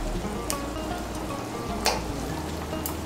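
Kofta curry cooking in a pan with ghee and garam masala, with a steady close frying sizzle throughout and a few brief sharper crackles and stirring clinks, no voices.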